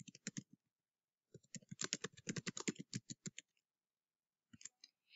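Quick clicky typing on a computer keyboard, short bursts of crisp keystrokes with pauses between, close and clear with no voices.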